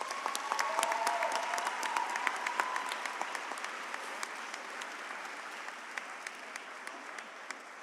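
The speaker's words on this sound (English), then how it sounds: "Give them a big round of applause." An audience at a secondary school graduation ceremony claps steadily in sustained applause, dense and fairly close, gradually thinning toward the end.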